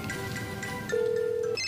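A telephone rings on an outgoing call, a steady electronic ring tone holding for a moment, heard alone without talk.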